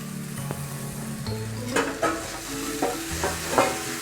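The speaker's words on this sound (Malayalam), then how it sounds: "ഞാൻ വേവിച്ച് വെച്ച ചേന ഇട്ട് കൊടുക്കുകയാണ്." Cooked elephant foot yam pieces are stirred into spices frying in a pan. A spoon scrapes and clinks against the pan in several close strokes over a low, steady sizzle.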